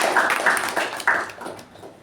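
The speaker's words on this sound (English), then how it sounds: "So a round of applause for the evaluator and the speaker." A small meeting group applauds an evaluator and a speaker. The clapping is fairly close and fades toward the end.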